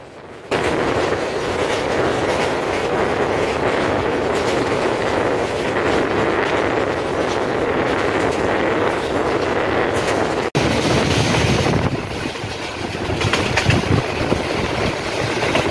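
Tista Express passenger train running on rails after leaving Mymensingh station: a continuous, loud rolling rumble heard from inside a coach, with faint clatter and a brief break partway through before the roar resumes.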